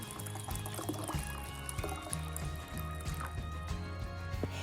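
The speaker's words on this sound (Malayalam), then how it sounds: "അപ്പോൾ അതൊരു ഗ്ലാസ് വെള്ളം നിറച്ച് വെക്കുകയാണ്" Water from a jug pours into a glass in one continuous close stream, gurgling and splashing, with the pitch subtly shifting as the glass fills.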